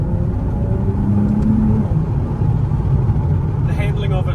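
A Nissan 370Z Fairlady with a 3.7 litre V6 engine, heard while driving as a loud, steady low engine drone with road noise that stays continuous throughout.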